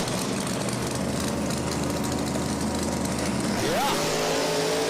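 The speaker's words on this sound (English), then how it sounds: "We're going to see here a little turbocharged Mustang action in the left lane." Turbocharged Ford Mustang at a drag strip, a loud roaring engine near and steady, then revving sharply upward in pitch as it launches, with crowd and track noise underneath.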